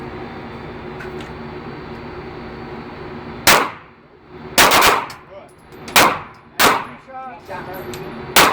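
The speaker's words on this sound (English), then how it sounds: "After I shoot twice, it says to see." Gunfire on a shooting range during concealed-carry practice: about five sharp, loud, close reports at irregular intervals over a steady background noise.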